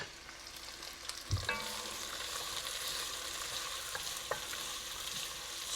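Onions cook down in a pot with a soft, continuous sizzle, broken by an occasional clunk or scrape of a utensil. The sound is fairly quiet and there is no speech.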